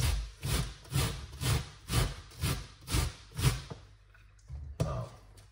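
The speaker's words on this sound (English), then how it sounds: "I'm just rubbing the grater on it like this" A handheld grater rasps against a head of cauliflower in a kitchen, making about eight quick rhythmic scraping strokes, close and fairly quiet, followed by a short pause and two final scrapes.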